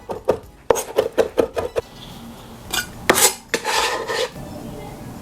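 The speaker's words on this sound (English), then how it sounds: "I'm gonna rough chop this." Knife chopping fresh cilantro on a cutting board, a quick run of about nine sharp close taps, then a pause and a few scattered louder knocks and scraping strokes.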